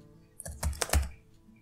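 Brief burst of typing on a computer keyboard, a few quick key clicks clustered together, near and fairly quiet, with no talking.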